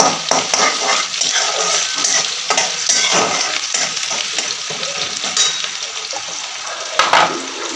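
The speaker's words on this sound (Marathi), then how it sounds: "एक कांदा कट करून घेतलेला आहे मी तो कांदा टाकणार आहे परतवून घेणार आहे" Chopped onion sizzles and sautés in a pan after cumin and mustard seeds have crackled, a loud, close, continuous frying hiss broken by occasional stirring scrapes and clinks.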